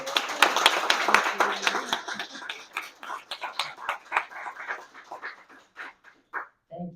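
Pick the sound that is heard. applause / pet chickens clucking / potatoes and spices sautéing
applause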